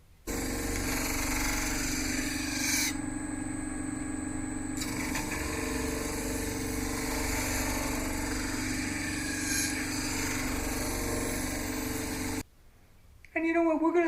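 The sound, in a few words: disc sander sanding a knife blade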